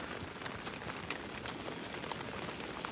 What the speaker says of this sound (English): I did not expect it to be raining this much.